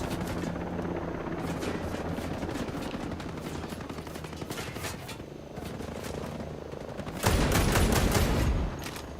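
Gunfire in Ghost Recon: rapid bursts of shots layered over the constant thrum of a nearby helicopter, building to a loud, dense volley near the end.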